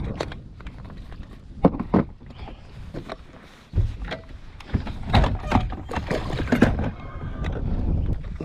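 A trolling motor is lowered on a fishing boat out on the California Delta, with clunks, knocks and rattles of gear against the hull under wind noise and water movement close to the microphone.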